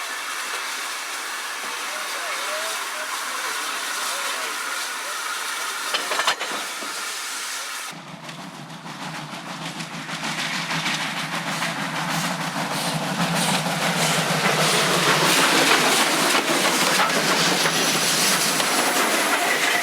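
A South African Railways GF Garratt steam locomotive hauling a passenger train near Greytown, a loud, steady rumble and hiss that swells midway as the train passes close, with a strong steam roar toward the end.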